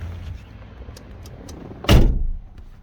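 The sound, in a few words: car door of a Rover CityRover opening and closing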